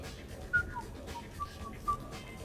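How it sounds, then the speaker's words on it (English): A character whistles in the Mass Effect 3 video game, a few short bright whistled notes spaced irregularly over faint background ambience, close and fairly soft, without talk. "Are you whistling?"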